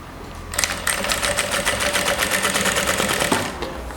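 A sewing machine stitches bias binding in one fast, steady run, its rapid needle chatter starting abruptly, loud and close, then slowing near the end.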